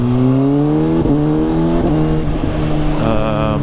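A 2019 Kawasaki ZX6R sport bike with the exhaust decibel killer removed revs loud and close, its exhaust note climbing steadily with brief shift breaks in a continuous, raspy howl.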